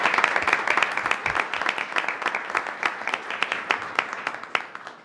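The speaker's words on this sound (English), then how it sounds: "Let's give him a round of applause." An audience at a college board of trustees meeting gives a round of applause. Many distinct hand claps blend into moderately loud, steady clapping that eases slightly toward the end.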